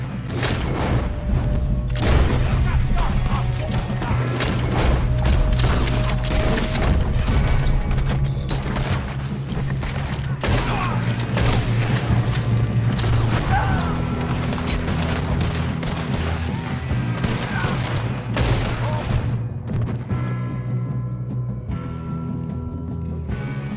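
Red Dead Redemption 2 gunfight with repeated loud gunshots and booming blasts in rapid, irregular bursts over a continuous rumble and clatter that persists to the end.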